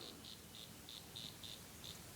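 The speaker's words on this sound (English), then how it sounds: "took that cicada. You're hearing these dying sounds." Dying cicada held in a small bird's beak, a faint series of short, evenly spaced buzzing chirps over quiet outdoor background.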